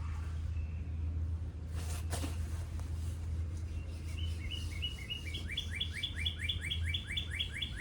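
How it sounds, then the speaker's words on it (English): Birds chirp and sing outdoors in pleasant weather on a farm, their repeated short high calls growing busier in the second half over a steady low background hum. "The birds are lovely today, aren't they?"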